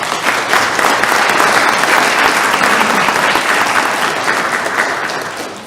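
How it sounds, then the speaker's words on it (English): A room claps for NASCAR champion Ryan Blaney at a High Point city council meeting. The applause is loud, dense and continuous, holding steady for several seconds before easing off slightly at the end. "So how about a round of applause for Ryan Blaney?"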